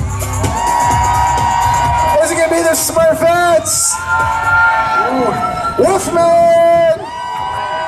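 Costume contest crowd at a Warrior Dash event in Michigan, loud bursts of cheering, whoops and shouts rising and falling as a host calls out contestants over the noise.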